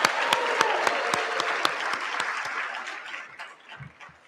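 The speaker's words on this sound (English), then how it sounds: "give him a round of applause" Audience applause with a whoop, a dense burst of clapping with sharp individual claps standing out, loud at first then thinning and fading toward the end.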